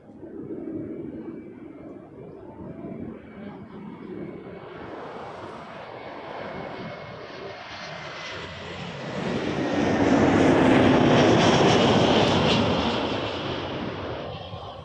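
A jet airliner takes off from runway 05 at Toronto Pearson, its engine roar building from a distant rumble to a loud, broad surge that peaks and then starts to fade.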